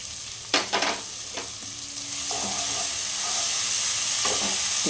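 Mustard paste frying in a pan for an eggplant dish, close steady sizzle and hiss with a few scraping stirs and taps of a spoon near the start.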